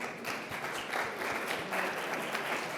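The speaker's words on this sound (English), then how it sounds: "Can I just have a final round of applause for all of our startups today?" An audience at a media festival showcase applauds the startups, a brief, fairly faint round of clapping with a steady, dense texture from a crowd in a hall.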